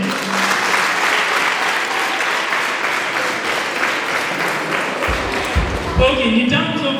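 An audience claps steadily at a debate competition, a dense wash of applause that holds for about five seconds before a voice begins speaking over its fading end.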